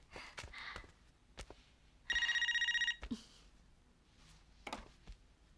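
A telephone bell rings in one short burst of rapid repeated trills, heard indoors among faint rustles and breaths.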